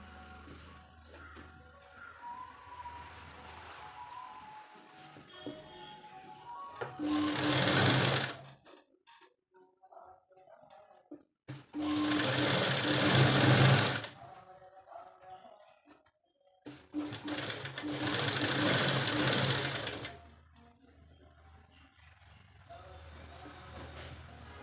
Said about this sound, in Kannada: ನೋಡಿ ಈ ಥರ ಒಳಗಡೆ ಕೊಟ್ಕೊಂಡು ಲೂಸ್ ಸ್ಟಿಚ್ ಹಾಕಬೇಕು.